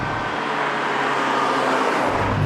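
A BMW 2002, an old classic car, accelerates out of a turn with a broad steady engine roar heard from inside, loud and continuous with a slight rise toward the end, no talk.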